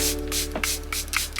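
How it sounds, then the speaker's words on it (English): Several quick hissing spritzes of Charlotte Tilbury Airbrush Flawless Setting Spray in rapid succession, close and crisp, over a faint steady hum. "So I'm going in with the Charlotte Tilbury Airbrush Flawless Setting Spray."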